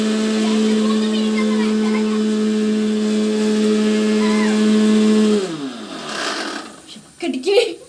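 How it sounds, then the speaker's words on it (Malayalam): Mixer grinder whirring loud and steady at high speed as it grinds bread pieces in the jar, its motor tone sliding down as it switches off near the end, followed by faint clattering. "നമുക്കിനി ജാറിൽ മിക്സിയിലേക്ക് ഇങ്ങനെ കയറ്റി കൊടുക്കാം"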